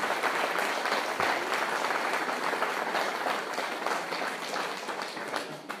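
An audience at a church talk breaks into sustained applause, a dense, even clatter of many hands clapping that holds steady for several seconds before easing slightly at the end.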